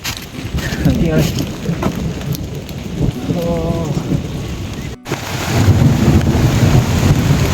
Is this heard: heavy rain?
yes